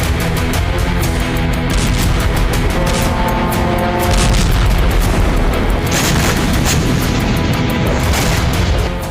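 Explosions from Ukrainian drone strikes on Russian oil refinery, gas and power plant facilities: a loud, continuous thunderous rumble of repeated booms and blasts, heavy and dense throughout.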